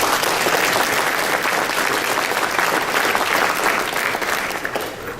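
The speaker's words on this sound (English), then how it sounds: "we need to applaud them tonight" An audience applauds judges at an evening event, a dense, steady wash of clapping that fills the room at full volume and holds throughout, easing slightly toward the end.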